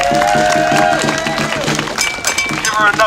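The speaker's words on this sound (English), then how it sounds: "Give her another round of applause" Crowd applause at an outdoor protest rally for Ma'Khia Bryant outside the Minnesota Governor's Mansion, steady clapping and scattered cheers mixed with voices and a chant-like tone throughout.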